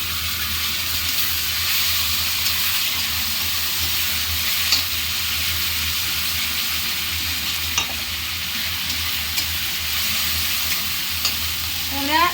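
Ground spice paste frying in oil with reddened fried onions over medium gas, stirred in a pan, giving a steady loud sizzle with occasional scraping strokes throughout.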